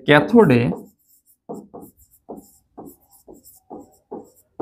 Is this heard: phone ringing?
no